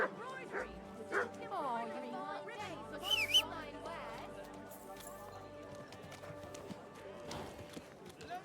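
A horse's hooves clip-clop in the medieval video game Kingdom Come: Deliverance, soft irregular hoof beats mixed with dog barks, game sounds and voices talking throughout.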